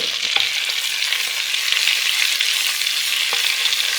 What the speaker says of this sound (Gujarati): આપણો સૂકો મસાલો સરસ શેકાઈ રહ્યો છે